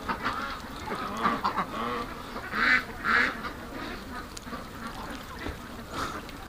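Ducks quack in a few loud, bunched bursts around the middle of the clip, close by, over a low steady background murmur.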